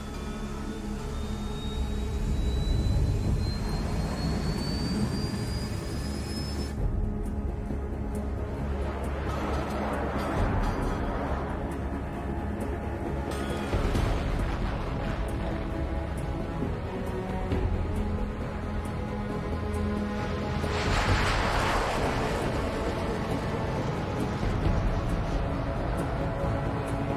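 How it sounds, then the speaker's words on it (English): A video game jet plane takes off and accelerates, its broad, steady engine roar filling the scene, with a rising whine at first and surging swells as it gains speed. "All this plane could do was take off, accelerate, and fly up"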